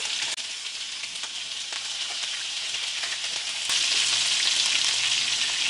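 Meatballs frying in oil in a pan give off a loud, continuous crackling sizzle that thickens and grows brighter toward the end, with no talking over it.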